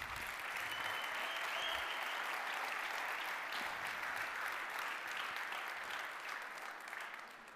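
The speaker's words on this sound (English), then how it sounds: "One round of applause for him." Steady audience applause fills a launch event for the Lisk protocol relaunch in Berlin, even and sustained for about seven seconds before easing slightly at the end.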